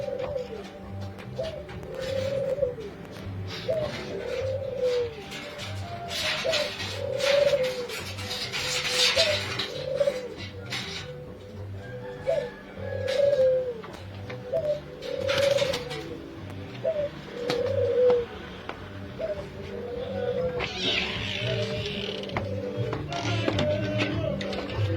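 Pigeons coo in a steady, rhythmic series of soft, low calls that repeat every second or so, with light tapping and some background noise.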